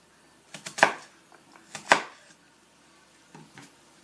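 Knife cutting down through an onion into quarter-inch vertical slices, a few sharp chops on a board spaced about a second apart, with softer taps between.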